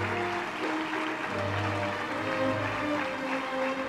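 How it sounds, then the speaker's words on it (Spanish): Steady applause from an audience at a regional sports awards gala in Lugo honouring a promising young rally driver, dense and continuous with a faint tonal hum beneath it. "Ese aplauso forte de novo para Adrián"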